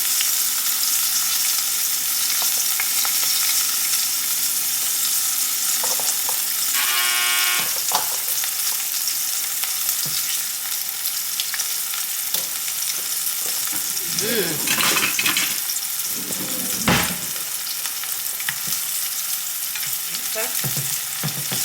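Pepper steak pieces fry in a pan with a steady, loud sizzle throughout, broken by occasional scraping stirs and clatter; a voice speaks briefly once.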